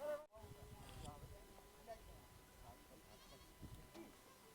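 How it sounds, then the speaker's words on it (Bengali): A flock of sheep and goats near Tso Moriri lake in Ladakh bleats faintly in scattered, distant calls over quiet outdoor background, with occasional soft rustles. "ভেড়া এবং ছাগলের পাল দেখুন।"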